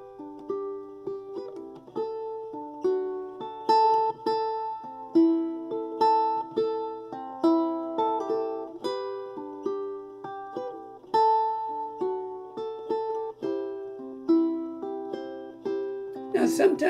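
Plucked string instrument played in a pluck, down, up, down strumming pattern: a steady, repeating run of bright picked notes and chords, close and clear, with no talking over it.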